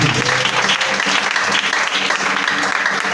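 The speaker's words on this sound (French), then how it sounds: "Acclame Jésus, acclame Jésus." A congregation at a French-language church service claps and cheers for Jesus, producing dense, loud, sustained applause with faint voices and music beneath it.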